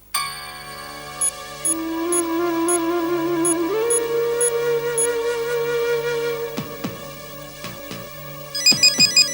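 A mobile phone ringtone plays a steady electronic melody over and over while no one answers, with clear chiming notes close by and a few brief clicks and knocks near the end.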